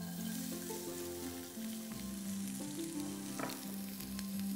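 Onion frying in a pan while making chicken fajita-filled samosas, giving a steady close sizzle with faint stirring scrapes and no one talking.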